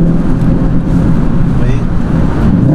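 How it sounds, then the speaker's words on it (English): A 2014 Ford Mustang with a slave cylinder fault causing gear lockout revs its engine: a steady low rumble that swells slightly toward the end, with a voice talking over it. "let me rev the RPM up a little bit"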